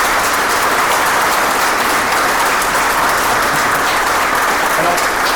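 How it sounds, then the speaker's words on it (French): Steady, loud applause from an audience at the inauguration speech for a new waste sorting centre, dense continuous clapping filling the whole stretch without a break. "je veux bien que vous l'applaudissiez"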